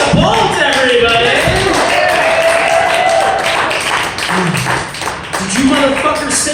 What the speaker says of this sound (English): Real applause, everybody.